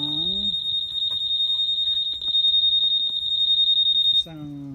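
A Honda ADV 160 scooter alarm sounds as a loud, continuous high-pitched pulsing beep that runs for about four seconds, then cuts off abruptly. Someone talks briefly before and after it.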